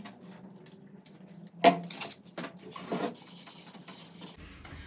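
Rough scraping and rubbing as a spatula scrapes glue off a wall, with bursts of rasping strokes and a few louder scrapes, close by and without any talking.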